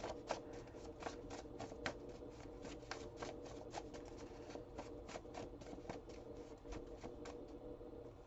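A deck of playing cards is shuffled again and again during a tarot-style reading, giving steady crisp riffling bursts and snaps in a fast run close to the microphone, with no voices.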